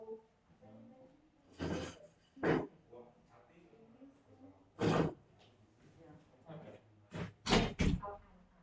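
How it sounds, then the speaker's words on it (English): A door in a room is pushed closed, with several sharp thuds and knocks spread across the stretch. Quieter handling noises and some faint speech sit between the louder hits. "I'm gonna close the door too, just so it's not too much background noise"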